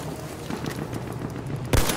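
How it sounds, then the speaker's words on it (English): Machine gun fire in a Battlefield 1 Conquest match rattles in quick, uneven bursts at middle distance, then one sharp, louder blast lands close near the end. "Machine gun over there!"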